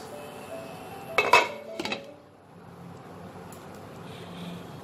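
A metal lid clinks down onto a pot of Oriya-style moong dal dalma set to boil, a brief cluster of bright clattering taps followed by a quiet kitchen hum.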